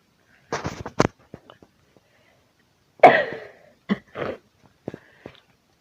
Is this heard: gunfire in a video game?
no